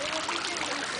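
Water splashing and trickling steadily in the fountains at the Taj Mahal in Agra, India, a continuous close, fairly loud wash of flowing water with no talk.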